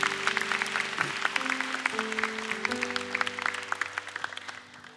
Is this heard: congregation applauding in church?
yes